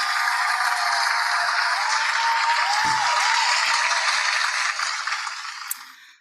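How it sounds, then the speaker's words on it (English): Broad, even applause from attendees at the close of a web development bootcamp's final student project presentations, steady throughout and tapering off near the end. "I'm gonna give a round of applause to everyone"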